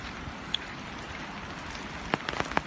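Steady rain falls during a storm, making a dense, even hiss with a few louder drips near the end, faint overall and with no voices.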